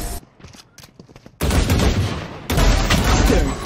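Kuronami Vandal rifle fire in Valorant: a quiet stretch of scattered clicks, then two loud sustained bursts of rapid automatic gunfire, close and dominant.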